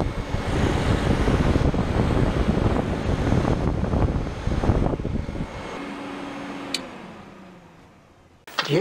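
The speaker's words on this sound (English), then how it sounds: "the cooling fan kicks in" A Honda CBR1000F motorcycle with a leaky thermostat and rusty tank runs its radiator cooling fan, a steady loud whirring drone that holds for several seconds, then winds down and fades away.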